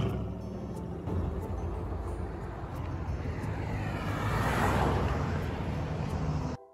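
Steady roar of passing car traffic along a wide Phoenix road, heard from the sidewalk while walking, with a continuous rumble that swells as a vehicle draws close around the middle and fades away near the end.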